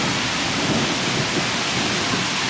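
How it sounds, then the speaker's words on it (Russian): Thunder rumbles steadily through heavy rain during a rainy-season storm in a city, a dense continuous wash of downpour with a deep low roll underneath, loud and close. "Грохочет гром."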